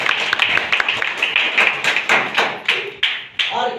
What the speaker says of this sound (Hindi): जबरदस्त ताली बजाइए